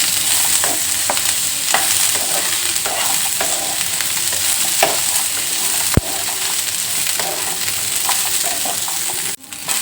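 Garlic fries in oil with a steady close sizzle, punctuated by repeated scrapes and clicks of stirring in a pan, one sharper knock near the middle and a brief dip near the end; no voices.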